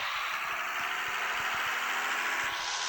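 Steady idling tractor engine in the mobile farming game Farm 23, a continuous even drone with a faint low rhythmic thump, close and alone with no talking.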